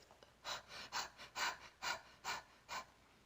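A person imitates panting with six evenly spaced, breathy huffs about half a second apart, close and fairly soft, with no other sound around them.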